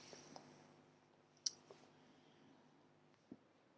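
Faint, sparse clicks from a computer mouse at a desk, one sharper click standing out among a few softer taps over quiet room tone.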